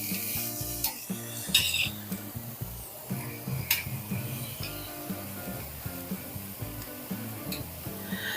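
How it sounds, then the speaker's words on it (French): Beef for a Porto-style francesinha sandwich sizzling as it grills in a pan, a steady frying hiss with occasional sharper crackles and faint utensil clinks, with a low, tonal background layer running underneath. "Donc, le bœuf, je vais le faire griller."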